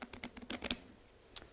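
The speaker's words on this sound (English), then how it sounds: "You're going to riffle shuffle the cards together" A tapered stripper deck riffle-shuffled together, some cards face up and some face down, gives a quick close run of crisp paper clicks and flutters, then a lone click after a short pause, with no voices.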